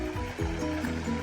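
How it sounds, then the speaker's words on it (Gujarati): Water falls and splashes steadily at Nilkanthdham in Poicha, a close, continuous wash of sound across the brief moment with low murmuring voices underneath. "આ જો ઈ ઓલું પાણી પડે અહીંયા"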